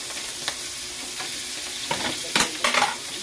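Ground meat frying with garlic and onion in a hot pan, a steady close sizzle broken by several scraping stirs toward the end.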